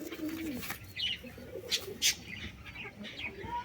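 Pigeons, including young birds, give soft, low coos close by, with a few faint chirps and light rustles in a quiet setting.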